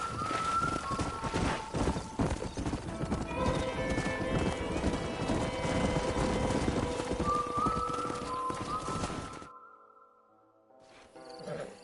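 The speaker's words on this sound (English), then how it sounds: "We got some fine horses." Horse hooves clip-clop steadily in Red Dead Redemption, joined by whinnies and a dense layer of game music and ambience, with the hoofbeats continuing for about nine seconds before cutting to near silence.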